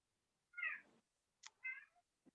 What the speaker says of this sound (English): you might hear my cat a little in the background